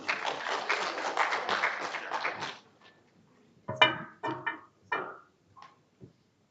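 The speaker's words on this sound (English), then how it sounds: "Once again, ladies and gentlemen, a round of applause for all of us." An audience at a local journalism event applauds in a brief burst of clapping that fades after a couple of seconds, followed by a few scattered taps and knocks.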